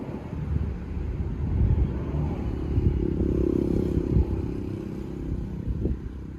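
A Honda Forza MF08 scooter engine runs with its drive belt removed, a low, rough mechanical rumble heard up close with faint wind-like noise over it.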